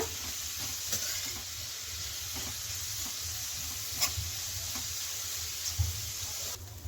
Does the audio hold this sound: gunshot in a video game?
no